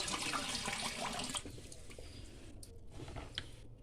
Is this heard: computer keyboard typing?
no